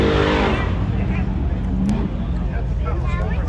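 Classic car engine running close by in a steady, loud rumble with some revving, while people talk over it.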